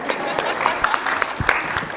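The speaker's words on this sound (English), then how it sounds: "Let's have a round of applause." Audience clapping at a plenary session of a conference, a broad crackle of many hands that is moderately loud and continuous, with a voice heard over it.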